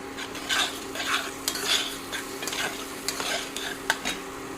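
Spice masala with dry chilli powder and turmeric frying in a pan, stirred in regular strokes that scrape and clatter against the metal over a soft sizzle and a low steady hum.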